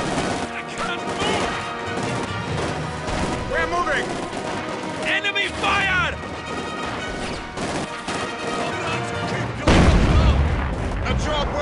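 Demolition charges blowing in the WWII strategy game Company of Heroes 2, heavy crashing booms and scattered gunfire amid battlefield din, with soldiers' shouted voices over the chaos and a big blast near the end.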